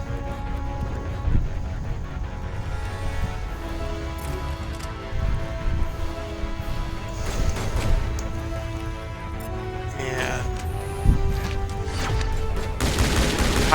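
Pistol gunfire in the Mass Effect Legendary Edition video game, a run of loud repeated shots in uneven bursts over a droning musical score and battle noise.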